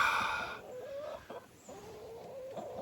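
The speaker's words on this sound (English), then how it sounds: "Here come my chickens, so you're probably gonna hear them squawking" Backyard chickens cluck and squawk close by, a few short rising calls scattered over a few seconds against a quiet outdoor background.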